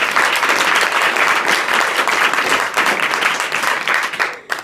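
A roomful of schoolchildren at an adolescent education program breaks into sustained, dense applause for a teacher, steady clapping that tapers off in the last moment.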